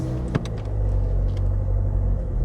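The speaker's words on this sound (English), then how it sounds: "Pressing the gas pedal when moving off really helps the car not stall." Car engine pulling away on a hill start during a driving test, a steady low rumble building gently after a short click, close and continuous.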